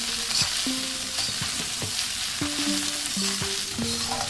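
Vegetable poha stirred and fried in a pan, a steady loud sizzle with scraping spoon strokes repeating throughout, close by and with no talk.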